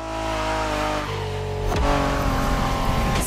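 A Honda NSX sports car engine from the 1990s, driven in The Crew Motorfest racing game, drones steadily up close, then revs harder and louder partway through.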